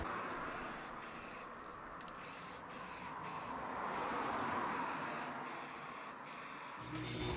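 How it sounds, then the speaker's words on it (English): Spray varnish is applied to a wooden piano stool in short aerosol bursts that repeat at irregular intervals, faint and close over a quiet background hiss. "I added a few coats of spray varnish for a nice durable finish"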